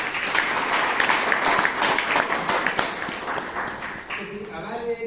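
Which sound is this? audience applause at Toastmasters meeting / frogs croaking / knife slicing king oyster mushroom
audience applause at Toastmasters meeting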